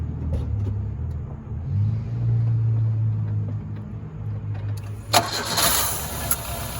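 A 1996 Chevrolet S-10 pickup engine, just fitted with a new timing chain, cranks with a low rumbling churn, then catches and settles into a steady, slightly rough idle up close.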